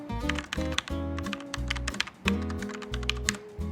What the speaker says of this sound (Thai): แต่อันนี้เป็นการ์เตลอนสวิช แบบแบล็กสีดำนะครับ